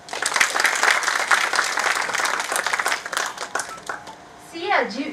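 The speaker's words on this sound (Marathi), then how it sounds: "एकदा जोरदार टाळ्या" Loud audience applause fills a book launch hall in Pune, dense sustained clapping from a seated crowd that rolls on for about four seconds before thinning out, with a voice speaking over the microphone at the end.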